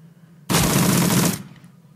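Gunfire in the video game Shadowrun Returns, a single loud, dense burst of rapid automatic shots lasting under a second that then cuts off abruptly.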